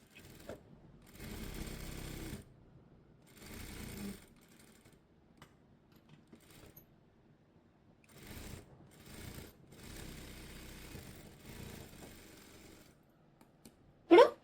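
A sewing machine stitches the lower hem of an Aliya-cut frock in short bursts, several runs of whirring separated by pauses and faint handling sounds, with a sharp clack near the end.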